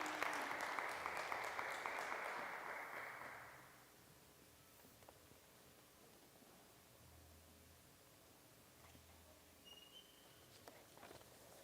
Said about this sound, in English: Please give them a hand clap.